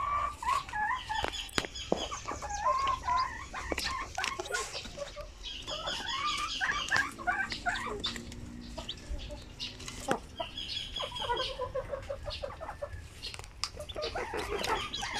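Pure Zampen native chickens and their chicks cluck and call close by in an irregular, steady stream of short bird sounds, with no talking.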